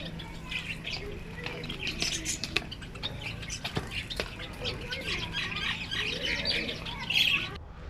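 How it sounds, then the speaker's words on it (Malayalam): Many birds chirp and squawk from a big tree on a farm in Ajman, a dense, busy chorus of overlapping calls close by, with a sharper squawk near the end. "അതിൽ നിറയെ കിളികളാണ്."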